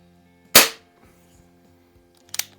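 A Crosman Fortify air rifle fires BBs: one sharp, loud crack followed a couple of seconds later by a second, quieter snap, with near silence between the two shots.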